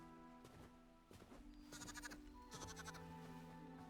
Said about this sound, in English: Two baby sheep.